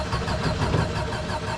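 Car engine cranking on the starter motor of a fuel-injected car, a continuous close grinding churn that doesn't catch, steady and loud throughout.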